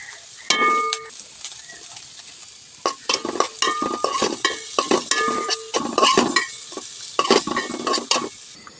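Prawns and vegetables are stirred in a hot frying pan, with a spatula scraping and clattering in quick repeated bursts over a steady sizzle of frying oil, close up, with no talking.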